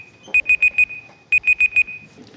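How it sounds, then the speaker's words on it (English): An alarm clock goes off with two bursts of four rapid high beeps each, loud and close, separated by a short pause, with no speech. "had the alarm go off"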